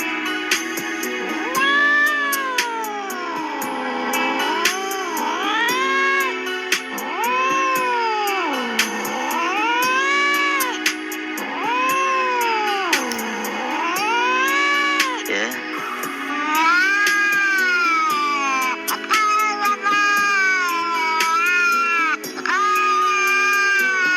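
A cat meows and caterwauls in long, wavering, drawn-out wails, repeated again and again close up and loud, with no pauses between the cries.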